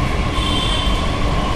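A Delhi metro train running along the track, a loud, steady rumble with a sustained high wheel squeal and rail hum close by, continuous throughout without any talk.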